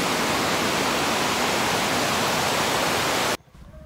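Water released for irrigation roars out of the Varathama river dam, a steady, loud rushing wash that fills the air for over three seconds, then cuts off abruptly.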